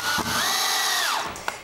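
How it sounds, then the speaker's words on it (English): A power drill whirs steadily as it drives a 1¼ inch wood screw into a floor joist, its pitch rising then falling before the motor stops with a short click. "I'm going to drill these into the joist."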